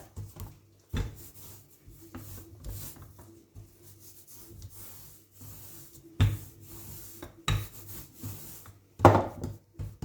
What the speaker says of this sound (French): je vais étaler jusqu'à obtenir à peu près 1 cm d'épaisseur